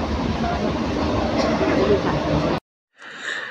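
A train rumbles steadily and loudly from inside for a couple of seconds, then cuts off abruptly, followed by a short, quieter stretch of other noise.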